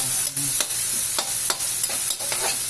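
Onions, garlic and ginger cook for bopis in a hot pan with a steady sizzle, broken by a handful of sharp scraping strokes from stirring, close and with no talk.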